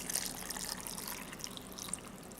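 Salt-water brine pours steadily into a jar of peppers being fermented for hot sauce, a soft continuous trickle with light splashing, close and fairly quiet.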